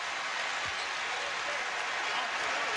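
Applause from a basketball arena crowd at Rupp Arena, a dense steady wash of clapping with no pauses, heard from a distance with faint voices mixed in.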